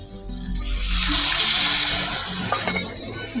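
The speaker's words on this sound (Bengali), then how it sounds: "এবার জল দিয়ে আর কিছুক্ষণ আমি সিদ্ধ করে নেবো।" Water poured into a pot of pumpkin cooking for a sweet pumpkin dish, a close, rushing splash that rises, stays steady, then tapers with a few small spatters.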